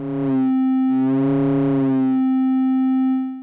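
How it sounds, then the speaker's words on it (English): AE Modular 555 oscillator module producing a synthesizer tone, a steady pitched drone with bursts of rich harmonics that pulse on and off, then settle into a sustained tone alone at close range. "this can be really, really useful for making like sweeping sounds and awesome effects"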